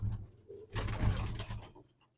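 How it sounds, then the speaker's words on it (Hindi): Pigeons coo close by in an enclosed loft, soft throaty calls with a fuller burst in the middle before fading out. "ये कबूतरों के दड़बे में"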